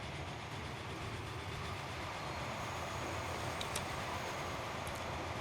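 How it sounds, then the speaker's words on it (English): A train ride in the Transport Fever video game: a continuous, even rolling rumble with a faint clatter and an occasional light tick, steady throughout. "Let's take a ride on the train."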